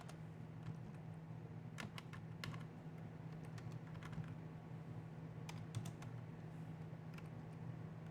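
Quiet, irregular keystrokes tap on a computer keyboard at a Linux terminal, coming in scattered bursts and clusters over a steady low hum, with no voices.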